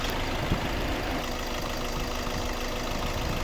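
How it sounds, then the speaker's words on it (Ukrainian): A 2015 Hyundai i40 1.7 CRDi diesel engine idling steadily with a low, even rumble and light knocking, continuous and close, with no voices. "Ось робота двигуна"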